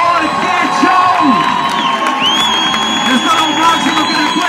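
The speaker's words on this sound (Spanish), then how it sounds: "¡Aplauso, por favor!" A large audience cheers and applauds at a live tricks show, with a loud, steady roar of whoops and shouts that lasts throughout.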